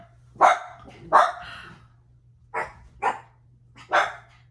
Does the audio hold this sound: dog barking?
yes